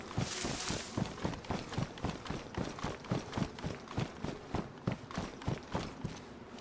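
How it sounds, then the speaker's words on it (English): Footsteps in the survival video game DayZ thud in a steady, regular rhythm, about two or three steps per second. They are moderately close and heard alone over a faint background wash. "I heard footsteps."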